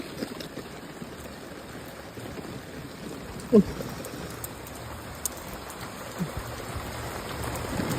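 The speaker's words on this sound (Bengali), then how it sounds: "কি হারে বৃষ্টি নেমেছে" Steady heavy rain pours down, a continuous dense hiss with occasional louder drops and a faint knock, no voices over it.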